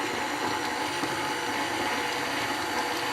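Electric mixer whirring steadily as it beats egg yolks with confectioner's sugar for Sacher torte bites, with a constant close drone throughout and no talking.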